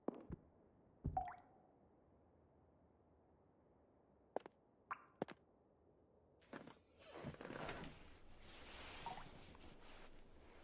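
Water drips inside a quiet house, a few sparse, faint single drops spaced seconds apart, before a broader low rushing noise rises and fills the rest of the stretch.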